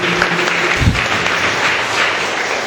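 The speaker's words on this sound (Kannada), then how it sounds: "ಕೈ ತೆಗೀರಿ, ಚಪ್ಪಾಳೆ ತಟ್ಟಿ ದೇವರಿಗೆ ಸ್ತೋತ್ರ ಕೊಡಿ ಜೋರಾಗಿ" A congregation at a Tulu-language Catholic Mass claps together in praise, a steady, dense wash of many hands filling the church, continuous and fairly loud without clear pauses.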